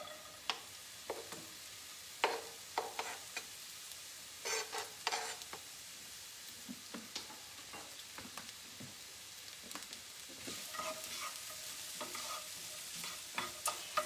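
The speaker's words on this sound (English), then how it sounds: "I'm going to start out with my onions, and I'm going to let them cook a little bit" Red onions sauté gently in olive oil for a cauliflower rice pilaf, a soft low sizzle with scattered light scrapes and taps from a stirring utensil.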